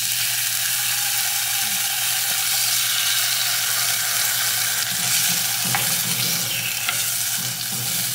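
Canned kimchi frying with garlic puree in sesame oil, a steady dense sizzle with occasional stirring scrapes, close and continuous.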